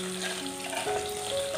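Large chopped onions sizzling in hot oil with cumin and spices in a pan, a steady close frying hiss with faint stirring and no talk.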